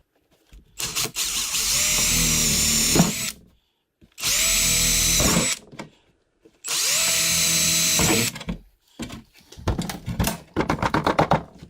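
A power drill bores mounting holes in a Bass Tracker boat for a Helix 7 fish finder, three loud, close whining bursts of a few seconds each separated by pauses, followed by lighter rattling handling noises.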